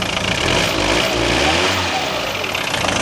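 An old car engine, unused for nearly ten years, runs at raised revs with a dense, steady roar, loud and close throughout, with no voices.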